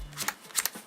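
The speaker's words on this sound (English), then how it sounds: "Oh wait, what am I doing? I didn't shuffle it." Yu-Gi-Oh! trading cards being shuffled by hand in a deck, giving a quick series of crisp riffling bursts across about a second, close and clear with no talking.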